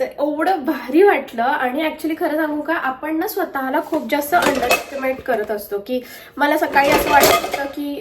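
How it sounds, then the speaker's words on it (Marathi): Dishes and pots clatter in two sharp bursts, ringing metallic knocks under continuous nearby talking. "सॉरी भांड्यांचा आवाज आला"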